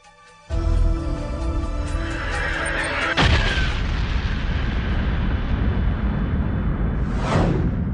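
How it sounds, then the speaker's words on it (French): A huge Big Bang explosion effect: a sudden deep boom bursts in, followed by a second blast and a long roaring rumble, ending with a rising whoosh. "Cette explosion émana d'un seul point il y a quelques 15 milliards d'années, à partir du néant."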